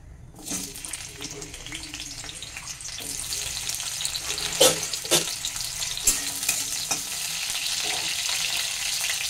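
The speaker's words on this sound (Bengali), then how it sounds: "এইটাকে আমি এই তেলের মধ্যে এই উচ্ছেগুলোকে একটু ভেজে নেব" Round, thick-cut bitter gourd slices fry in hot oil with a steady, close sizzle. Occasional clinks and scrapes of stirring rise above the crackle.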